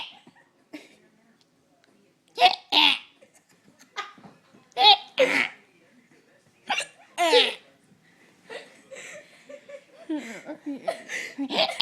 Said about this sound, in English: I'm hiccuping.